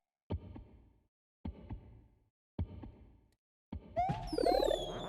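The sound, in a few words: heartbeat sound in a video game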